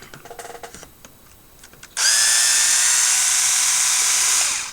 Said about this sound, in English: we're removing the link bolts, upper and lower link screws, and then the two screws for the side of the skid plate.